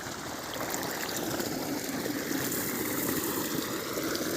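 Irrigation water rushes and gurgles steadily in a continuous flow through a wheat field, with a faint engine hum beneath.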